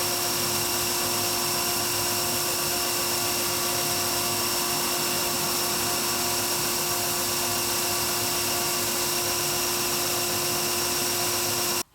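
Belt sander grinding steadily against a block of cherry wood while a box lid is shaped, a loud, continuous abrasive whine and roar close by that runs unbroken before cutting off abruptly at the end.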